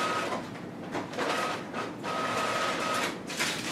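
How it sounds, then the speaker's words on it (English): A printer runs steadily at a tattoo studio with a soft mechanical whir and rhythmic sliding passes, fairly faint, with brief tonal whines between strokes. "Okay, the printer is working now"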